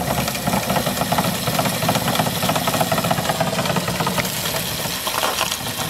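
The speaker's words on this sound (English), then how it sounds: "Listen to the RPM drop in this motor." Steady mid-pitched motor hum with a rattling, knocking texture from a 3D printed Pelton turbine generator as its RPM drops under heater load, loud and continuous with no speech.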